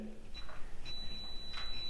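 Short high-pitched electronic beeps from a Schlage keypad door lock, a brief tone followed by a longer sustained beep, close and fairly quiet against faint room noise.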